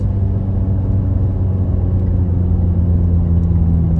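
A truck engine, downshifted while towing a trailer loaded with manure, drones in a steady, loud, low rumble with no break.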